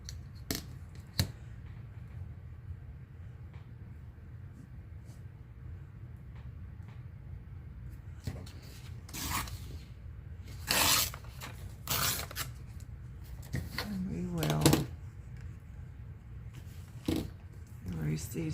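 Paper is torn for an altered book in a few short, crisp rips spread across a quiet room, with soft handling rustles between them.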